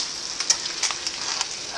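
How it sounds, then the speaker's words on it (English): Food sizzles and crackles in a hot pan, a bright hiss with a few sharp pops, fairly close and with no talking. "it's getting a nice good sizzle in there"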